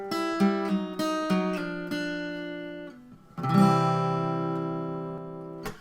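Short clean electric guitar lick closing a country song, a few plucked notes followed by a ringing sustained chord, close and clear with no voices.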